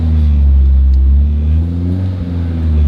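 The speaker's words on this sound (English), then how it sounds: "the diff on this thing is absolutely ridiculous and way too freaking loud" A Nissan R32 GTR fitted with a GTS rear differential rumbles loudly and steadily at close range, its low engine and drivetrain drone swelling slightly as it revs, with no voices over it.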